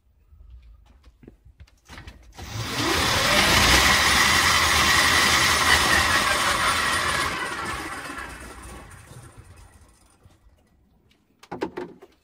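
Electric motor of an Aixam electric car spinning its wheels, a whirring drone that rises, holds steady for several seconds, then winds down, with quiet handling clicks before and after.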